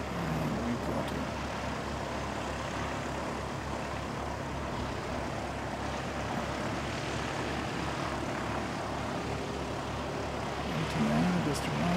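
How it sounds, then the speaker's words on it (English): An ATR turboprop arriving at the Canterbury Aero Club airfield, a steady low propeller and engine drone that holds throughout at moderate distance, with some talking over it. "ATR just arriving"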